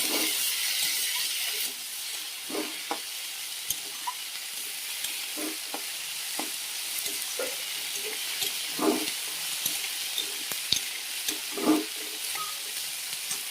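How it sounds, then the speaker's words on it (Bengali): Onion, green chilli and potato fry in oil in a wok with a steady close sizzle, broken by occasional stirring scrapes and clicks; no talking. "দেখো কড়াইয়ে তেল দিয়ে কাঁচা লঙ্কা আর কাঁচা পেঁয়াজ দিয়ে দিয়েছি"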